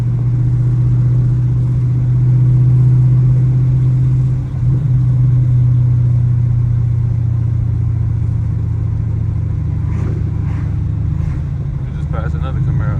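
Chevrolet Camaro SS engine droning steadily from inside the car on a night drive, a loud low exhaust rumble with a few sharp pops and crackles near the end.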